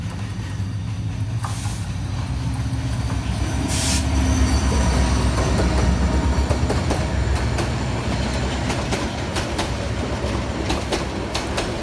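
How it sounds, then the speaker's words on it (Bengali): A long intercity passenger train rolls into a railway station, its wheels squealing and clattering loudly and continuously over the rails, close by, with no voices. "আরেকটা ট্রেন আসতেছে এখানে"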